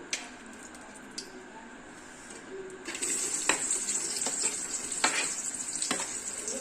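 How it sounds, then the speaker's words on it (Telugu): Sliced onions dropped into hot oil for a Telangana fish curry, a quiet hiss that swells suddenly into a loud, steady sizzle, with light stirring clicks up close. "కొంచెం ఆయిల్ వేడైంది. ఇప్పుడు మనం ఆనియన్స్ వేద్దాం."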